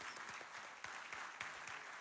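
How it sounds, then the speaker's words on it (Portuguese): Clapping from an audience at a lecture for two congressional deputies, a fairly faint but continuous spatter of hands over two seconds, with a few sharper individual claps standing out. "a quem eu também pego uma salva de palmas aqui para os dois"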